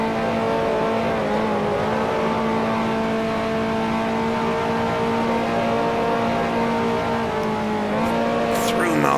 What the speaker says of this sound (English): now up into fifth gear, just riding those top RPMs on the engine. Hopefully this Ferrari lasts for me.